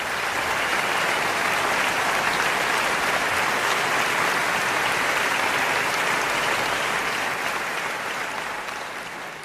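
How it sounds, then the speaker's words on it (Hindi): Loud, sustained applause from a large audience in a hall welcoming a speaker, steady and dense throughout with no voices standing out. "जोरदार तालियों से स्वागत हो जाए"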